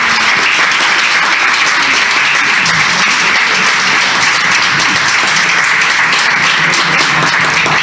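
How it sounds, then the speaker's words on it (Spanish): Loud, close, continuous applause from an audience at a lecture on Cappadocia, a thick wash of many hands clapping steadily throughout with no speech over it. "quisiera que dieran un aplauso a Rosy"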